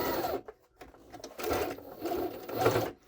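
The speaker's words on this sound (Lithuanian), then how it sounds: "Siūnam odą. Paprastas dygsnis. Retas." Jaguar SJ-23 sewing machine stitching leather with a long, sparse straight stitch, running in close, mechanical bursts separated by short pauses.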